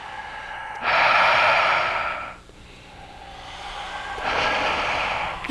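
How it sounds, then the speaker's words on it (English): Two deep, slow breaths during a breathing exercise, each a long airy rush close to the microphone, separated by a brief quiet pause. "Keep breathing."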